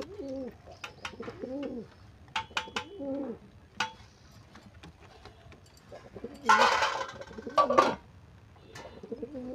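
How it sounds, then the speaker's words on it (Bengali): Several pigeons coo in soft, repeated throaty phrases close by, with a brief burst of fluttering or rustling midway. "এই হচ্ছে পায়রা।"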